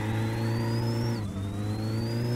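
A car engine idles and revs in the driving game My Summer Car, a steady close mechanical drone with a rising whine that dips briefly before climbing again, with no talk over it.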